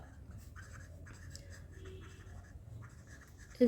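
A pen or marker writes by hand in short scratchy strokes, faint and close, in a quiet room without speech.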